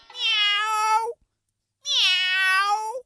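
A cat gives two long, clear meows close by, separated by a brief silence, the second rising and more insistent.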